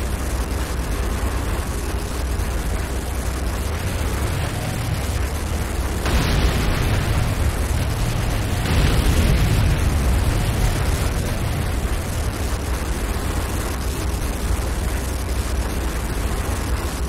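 Explosions from an attack on a GDI infantry barracks in the game Renegade, two loud broadband blasts around six and nine seconds rising over constant dense battle rumble and noise.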